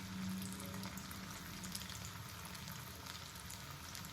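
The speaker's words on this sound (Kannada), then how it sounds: "ಮೀಡಿಯಮ್ ಫ್ಲೇಮಲ್ಲಿ ಇದನ್ನು ಫ್ರೈ ಮಾಡ್ಕೊಳ್ಳಿ" A fenugreek-leaf evening snack fries in oil over a medium flame, making a faint, even, continuous sizzle with a soft crackle throughout.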